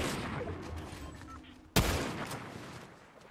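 A single sudden loud gunshot blast from Fortnite gameplay cuts through a quieter mix of game ambience, then trails off slowly.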